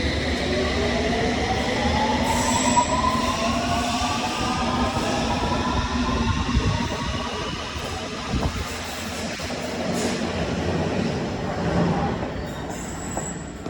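A London Underground train runs steadily with a loud rumble, metallic wheel squeals rising and falling, and brief high hisses; continuous throughout.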